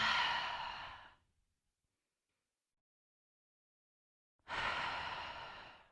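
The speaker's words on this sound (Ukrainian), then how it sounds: "Глибокий вдих і, і подовжений глибокий видих." A deep breath taken during a seated posture exercise, a soft airy breath fading out at the start, a long silence, then a long breathy exhale close to the mic.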